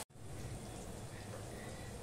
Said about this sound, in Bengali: দিয়ে দিলাম অল্প জল